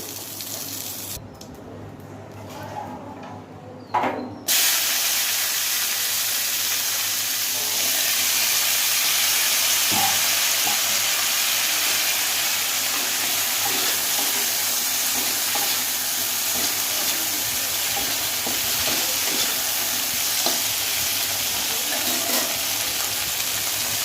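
Yardlong beans frying in a pan, a loud, steady, close sizzle that jumps up after a few quieter seconds and holds evenly throughout, with no talking.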